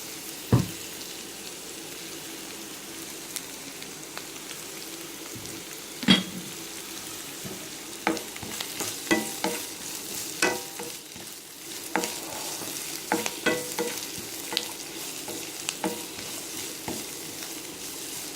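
Masala for tomato kulambu sizzles steadily in a pan while a spoon stirs and scrapes it, with occasional sharper knocks against the pan over a continuous frying hiss.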